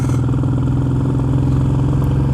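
A Royal Enfield Meteor 350 motorcycle engine labours up a steep hill in third gear, a loud, steady low-pitched thrum that holds evenly throughout.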